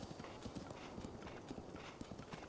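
Horse hooves clip-clop steadily at a brisk, even rhythm in the Breath of the Wild video game, the rapid clopping continuous and fairly close throughout.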